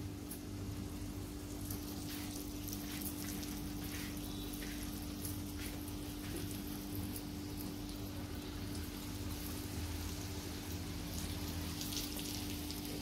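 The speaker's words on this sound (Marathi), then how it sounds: "असं तेलावरती टाकायचे गरम गरम" Rava-coated Chonak fish sizzles steadily in hot oil in an open pan, a dense continuous crackle and hiss with no talking over it.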